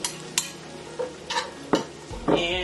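Onions go into a pan with cabbage and sizzle softly while a utensil stirs and scrapes in several distinct strokes, close by.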